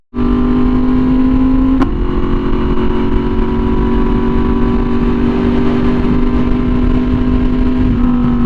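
Yamaha R1M motorcycle engine droning steadily while riding, loud and close, with a brief rev shift near the start and then a sustained even tone with wind noise underneath.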